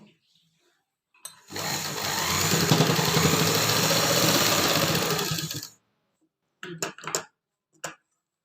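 A domestic sewing machine stitches a pocket onto palazzo pants in one continuous whirring run of about four seconds, close and loud, then stops, followed by a few sharp clicks and handling sounds.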